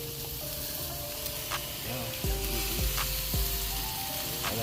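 Rice, vegetables and butter sizzle on an outdoor hibachi grill, a loud continuous hiss with sharp metallic spatula scrapes and clinks cutting through, close up and with no talking.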